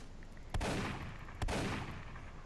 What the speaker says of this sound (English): I just shot the wall.